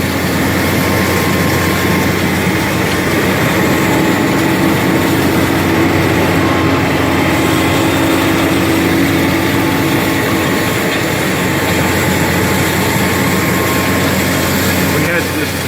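A Hulcher Guzzler hi-rail vacuum truck sucks up dry material on a rail line, its engine and suction making a loud, steady, continuous roar from start to finish, with someone talking over it.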